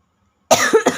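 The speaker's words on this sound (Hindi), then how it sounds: "सॉरी, बहुत खांसी हो रखी है।" A single harsh cough from someone with a bad cold bursts out after half a second of silence, followed by a couple of quick rough coughing spasms, close and loud.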